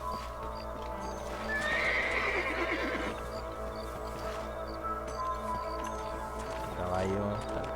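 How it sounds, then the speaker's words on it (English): Horse hooves clip-clop steadily in the video game Red Dead Redemption, with an occasional neigh, over soft continuous game ambience and music. "El caballo se está yendo para allá."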